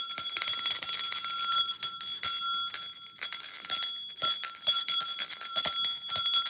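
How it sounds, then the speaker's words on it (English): A small hand bell rings repeatedly in quick, bright shakes, a clear metallic jingle that carries on almost continuously, loud and close with no talk. "I got a little bell for you."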